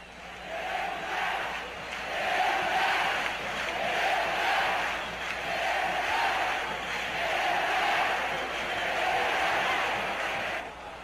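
A Corinthians football crowd in a 1983 Brazilian championship stadium chanting for a tenth goal against Tiradentes, rhythmic massed voices swelling and falling in repeated waves, loud and sustained.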